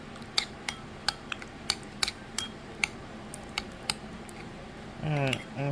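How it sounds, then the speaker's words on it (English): Metal spoon clinking against a pot while cheese is stirred into hot taco soup, a series of sharp, quick taps spaced irregularly, with a brief low rumble near the end. "Mix that cheese up in there a little bit"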